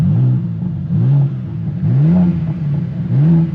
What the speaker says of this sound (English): It's a little bit louder than a regular M4 Competition, and it also sounds a little bit different. It's a little bit more raspy